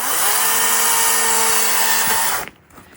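A loud power tool, likely a chainsaw, whines at a high steady pitch close by while trimming a freshly cut Christmas tree in a snowy Colorado winter setting, then cuts off abruptly near the end.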